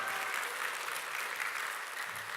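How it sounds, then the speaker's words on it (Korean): A church congregation applauding during a Korean sermon, a dense, even wash of clapping from many hands that holds steady throughout, moderately loud and without speech. "할렐루야, 박수!"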